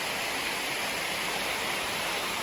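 Clear stream water flows along a hiking trail, a soft steady hiss of rushing water with no voices or other sounds.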